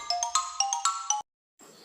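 A xylophone struck with sticks plays a quick run of about eight short, bright, ringing notes at close range. After a brief silence, a softer sustained tone follows.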